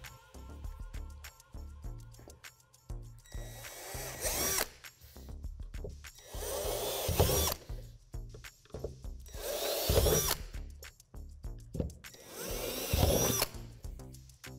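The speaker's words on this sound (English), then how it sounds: "we're going to drill out 4 dimples with the drill bit provided" A power drill whirs in several short, loud bursts, biting into the plastic wall of a playhouse kit, with pauses and handling clatter between each drilling.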